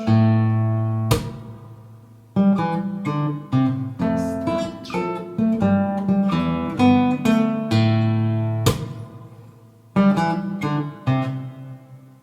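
A melody in short, detached staccato notes played briskly, with crisp attacks and brief gaps between phrases, loud and close with no talking.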